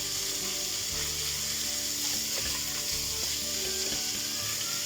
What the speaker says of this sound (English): get the bacon nice and crispy,